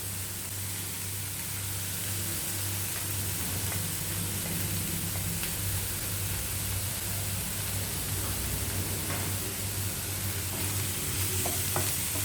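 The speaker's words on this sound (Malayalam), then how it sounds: "അപ്പോൾ അതിൻ്റെ കൂടെ തന്നെ സോസേജും കൂടി ഇട്ടിട്ട് ഫ്രൈ ചെയ്തെടുക്കാം." Bacon and sausage frying in a pot over a high flame, giving a dense, continuous sizzle and crackle under a steady low hum, with occasional stirring sounds and no talking.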